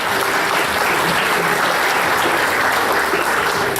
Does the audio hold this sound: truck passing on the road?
no